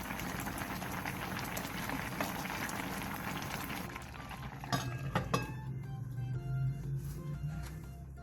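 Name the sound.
liquid boiling in a covered pot for soup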